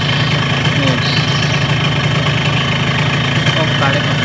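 A Yamaha RX King motorcycle engine idles loudly and steadily nearby, its carburetor and reed membrane being set up, giving a continuous rough, buzzing drone with faint mechanical rattles.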